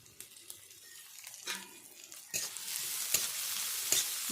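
Onions fry in oil for a Bengali hilsa-tail bharta, a rising sizzle with scattered stirring scrapes and clicks that grows louder and denser toward the end, with no talking.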